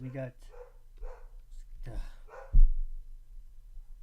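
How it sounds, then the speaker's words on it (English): A dog gives a short bark between stretches of someone talking indoors, one brief loud yip near the middle over a low steady hum. "my apologies for the dog"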